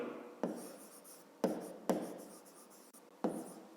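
Handwriting while solving a math exercise gives four sharp pen or pencil taps, each trailing into a scratchy stroke across paper, close and quiet with no speech.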